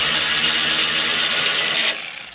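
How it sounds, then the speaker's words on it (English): A ratchet loosens a bolt on the axle bracket of a Craftsman 22-inch walk-behind trimmer, giving a steady close, dense clicking that runs for about two seconds and then breaks into a few separate ticks. "Removing one bolt is all you need"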